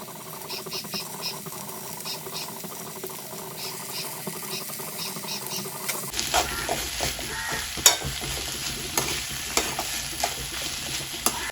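A large chopped tomato fries in sunflower oil in a home kitchen while being stirred. A steady soft sizzle turns rougher halfway through, with scraping and clattering strokes of the spoon. No one talks.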